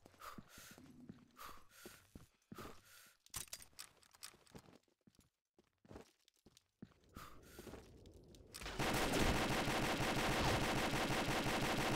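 MK16 SCAR-L rifle fire in the shooter game Combat Arms: scattered sharp shots and bursts with footsteps between them, then sustained loud continuous automatic fire near the end.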